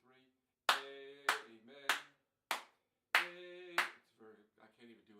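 Six sharp hand claps land on the backbeat, beats 2 and 4, each a crisp near transient in a steady even rhythm, with a voice singing and speaking between them.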